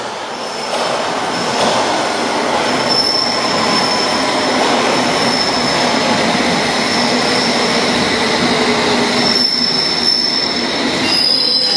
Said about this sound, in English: the next train that's going to make an appearance is going to be a district line service to Wimbledon